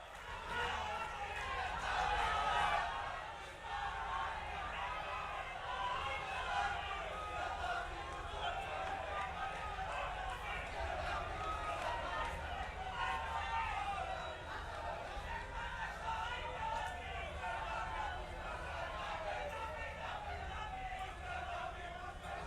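A large crowd at a public rally in Dehradun for Prime Minister Narendra Modi applauds and cheers in a dense, steady roar lasting the whole stretch, peaking near the start and holding loud with mixed voices throughout.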